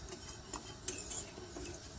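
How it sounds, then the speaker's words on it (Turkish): Spoon stirring flour soup with bone broth in a metal pot, giving a few light clinks and scrapes against quiet kitchen background. "Kemik suyunu da çorbamıza ilave ettikten sonra güzelce karıştırmaya devam ediyoruz"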